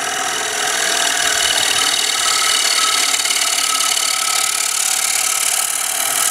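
A wood lathe runs at about 1600 RPM with a loud, steady whirring hiss and rasp, spinning a bowl blank for turning with carbide tools, continuous and close with no talk.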